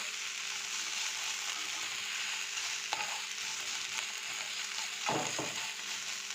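Broccoli frying with onion, green chilli and coriander leaves in a wok makes a constant close sizzle, with a few light stirs and a scraping spatula stroke near the end.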